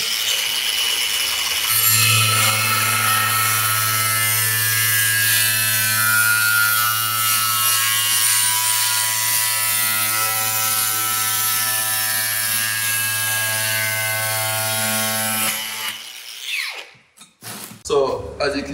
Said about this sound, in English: if you're spending a minute to cut a tile, you know, because you're getting more speed from your grinder